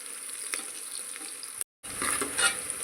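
Onions sauté for vegetable pulao, giving a soft, close, continuous sizzle with a few stirring clicks, broken by a short moment of silence.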